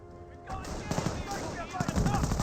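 Gunfire in the Company of Heroes strategy game strikes a lieutenant's squad, sounding as quiet, rattling bursts of shots mixed under ongoing talk.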